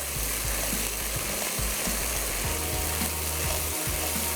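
Chicken pieces hitting a hot pan of browned onions set up a steady, loud sizzle and crackle, with scraping, clattering stir sounds running through it and no voices.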